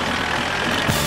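Cartoon tractor engine reversing through mud, a steady dense rumble that fills the short stretch with no talk, ending in a brief lower thud.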